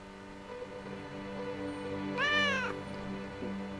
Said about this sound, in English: Oh, lot of kittens!